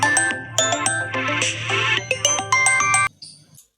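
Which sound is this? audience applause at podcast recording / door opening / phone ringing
phone ringing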